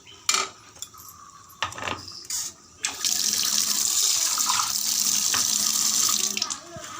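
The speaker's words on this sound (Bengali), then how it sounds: "আবারও একটু জল দিয়ে দিলাম।" Water pours from a tap into a cooking pot in a steady, close rush lasting several seconds, preceded by clinks and clatter of utensils and metal cookware.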